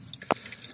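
A single water drip falls from a broken water line that is still draining, one short, faint plop against a quiet background.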